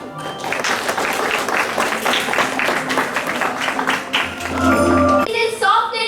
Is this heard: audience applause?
yes